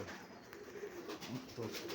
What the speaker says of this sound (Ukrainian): Птиці.